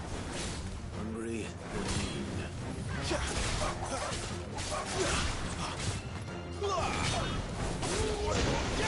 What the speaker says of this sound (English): Why do you gotta make the pained dog noises?